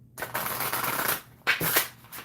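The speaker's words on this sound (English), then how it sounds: "Multiple different ways to shuffle." A deck of oracle cards is shuffled by hand in close, dense rippling bursts, a long riffle followed by two shorter ones after a brief pause.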